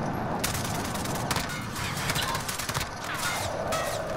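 Gunfire from the Modern Warfare video game crackles in rapid bursts and scattered shots, fairly loud and dense throughout.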